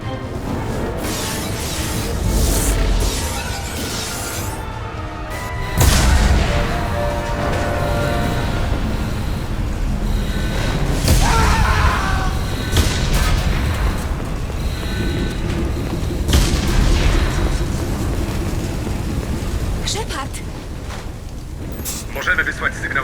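Explosions pound a starship under attack in the video game Mass Effect, with heavy booms at about six and eleven seconds over a constant rumbling din while voices talk throughout.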